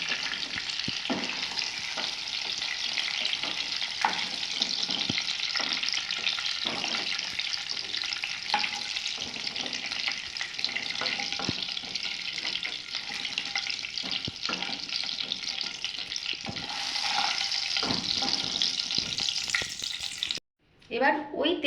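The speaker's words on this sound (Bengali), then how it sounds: "আলুগুলো ভাজা হয়ে গেছে, 3 মিনিট পর আমরা আলুগুলোকে তুলে নিচ্ছি।" Potatoes fry in hot oil for a vegetarian aloo dum, giving a continuous, even sizzle with occasional stirring scrapes. It runs for about twenty seconds, then cuts off abruptly with a brief clatter.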